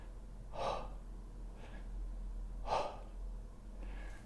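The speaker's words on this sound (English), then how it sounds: "So I want us to do a whispered huh." Two breathy, whispered huh sounds a couple of seconds apart, each a soft unvoiced exhale, with fainter breaths between them.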